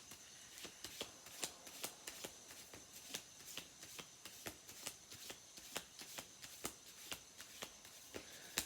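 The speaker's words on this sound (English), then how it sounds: "Let's shuffle some cards." Playing cards are riffled and shuffled repeatedly, with crisp rhythmic flutters and soft snaps at a steady pace, close but quiet.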